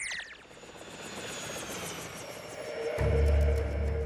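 Cartoon helicopter flying, a loud rotor drone with rhythmic blade chopping that swells and grows heavier near the end.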